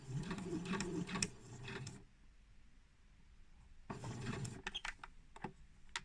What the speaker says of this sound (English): I'm going to do a small back tack, and then I'm going to stitch to the first corner.